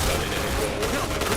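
Dense burst of gunfire from the PointBlank shooter, a rapid crackle of shots packed into a moment over a busy mix of game noise and voices.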